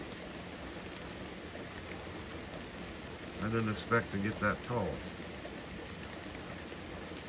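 Steady rain falling outdoors, a soft continuous hiss beneath someone talking briefly in the middle.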